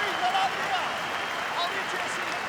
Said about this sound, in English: So the applause here is for the late Shane Warne.